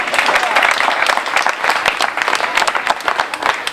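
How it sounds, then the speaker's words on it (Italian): Audience applause at a memorial event, dense and steady clapping throughout, loud and close, with crowd noise mixed in. "applauditevi!"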